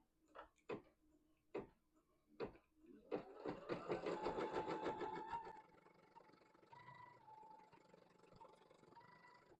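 An embroidery machine stitches a batting placement line for a quilt sashing block, giving a few isolated ticks and then a steady run of rapid mechanical stitching, close and moderately loud with no talk over it.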